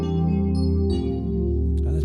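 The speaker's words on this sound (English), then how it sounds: "That piano sound is just gorgeous" A Yamaha hybrid digital piano sustains a rich, layered chord texture, dense and steady for a couple of seconds. A few lighter high notes drift over the held harmony.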